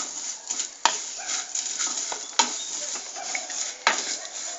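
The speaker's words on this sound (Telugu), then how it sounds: "సేమియా 1 కప్ వేసుకొని దాన్ని కూడా ఫ్రై చేసుకోవాలి" Vermicelli fries in a pan for payasam while a spoon stirs it, a steady close sizzle punctuated by sharp metallic scrapes and clinks of the utensil against the pan.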